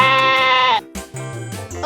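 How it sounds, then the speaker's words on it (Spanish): A sheep gives a loud, close, wavering bleat, then a shorter second bleat after a brief pause, heard alone with no talking. "ahora aquí tenemos este siguiente animalito y este es una oveja"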